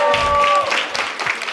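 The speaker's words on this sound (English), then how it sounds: "Give him a round of applause." An audience at a comedy showcase applauds with loud, dense clapping that fades slightly over its short span, with a voice briefly heard over the noise.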